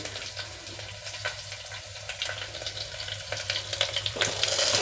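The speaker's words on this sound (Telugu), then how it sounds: "ఒక రెండు నిమిషాలు ఫ్రై చేసుకుందామా" Onions, green chillies, potato, carrot and broad beans frying in oil with curry leaves for millet khichdi, a continuous sizzle with stirring scrapes that grows louder toward the end, close by, no speech.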